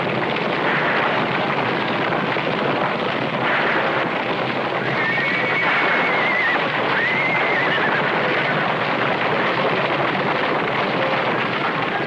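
Stampeding horses in a western-style drama's Wild Horse Valley: loud, continuous galloping hooves under wind-like rumble, with shrill neighs and whinnies rising out of the din across the whole stretch.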